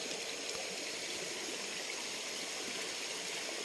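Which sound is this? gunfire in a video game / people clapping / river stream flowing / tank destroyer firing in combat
river stream flowing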